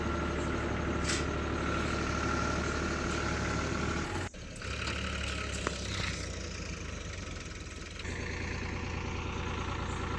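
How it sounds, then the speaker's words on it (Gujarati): A tractor engine idles in a farm field after being pulled free from getting stuck, with a steady low, throbbing drone, close and continuous, dipping briefly midway before settling back into the same rumble. "તો ટ્રેક્ટર ફસાઈ ગઈ છે ખેતરમાંથી બહાર કાઢી છે"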